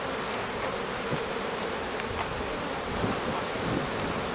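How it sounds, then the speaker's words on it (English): Honeybees buzz in a dense, continuous drone from an active hive, close and steady for a few seconds, with a little wind-like noise mixed in. "This has been a very active hive."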